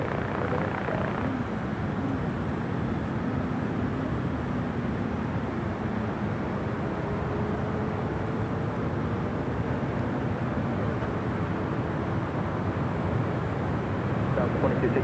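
An All Nippon Airways Boeing 777-300ER arriving from Tokyo Haneda onto runway 24 right at LAX gives a continuous, even, broadband jet roar that holds steady for the whole stretch without clear rise or fade.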